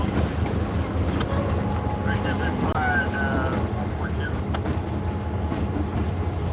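Freight train number 738 rolls past at DeButts Yard with a steady low rumble and some wheel clatter, heard from a distance outdoors.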